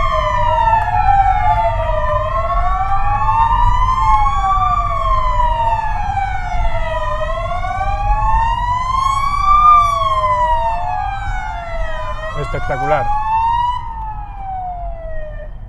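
Multiple emergency vehicle sirens from traffic police, national and local police, civil protection and firefighters wail together in overlapping rising and falling tones, loud and sustained over a low engine rumble, during a street tribute to hospital health workers in Córdoba.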